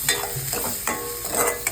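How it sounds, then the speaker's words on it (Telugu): Onions sautéing in butter in a pan for pav bhaji, close sizzling broken by several quick scraping and stirring strokes of a spoon, with no voices. "ఆనియన్ ఇది సాటే చేసుకుందాము."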